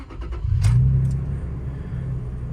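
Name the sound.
2007 Toyota Tacoma engine starting up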